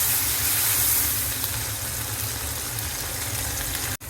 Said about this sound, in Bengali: দিয়ে দিচ্ছি জিরা বাটা। একটু নেড়ে মশলা মিশিয়ে নিচ্ছি।